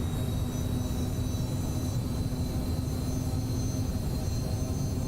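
Citation CJ4 business jet on its takeoff roll in a flight simulator: a steady, even engine drone with a low rumble and a faint high whine, constant in loudness throughout, with no voices.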